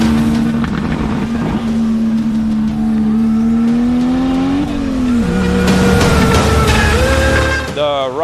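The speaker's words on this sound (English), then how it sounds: "The rush of the turbo spooling and then the boost kicking in" A 1986 BMW 325i swapped with a 2JZ engine and turbo with rolling anti-lag revs loudly and continuously, pitch sweeping up and down as the turbo spools and boost builds, ending in a sharp rise.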